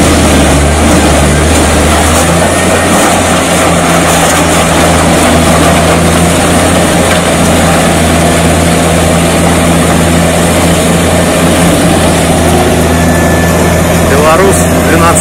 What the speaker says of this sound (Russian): Еще вам одну дробилочку покажу. Но это уже прицепная, и двигатель на ней стоит.